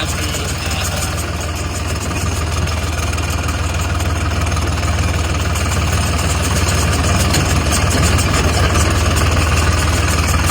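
A fully loaded tractor carrying onions to market idles loudly and steadily close by, a continuous low mechanical drone with an even throb that never changes, with no voices over it.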